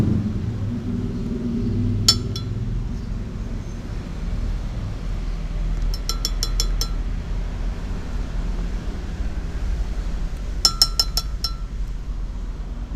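Glass blender jar clinking as dragon fruit is added for juice, a few short bright clinks in small clusters over a steady low hum of background noise, close and without talk.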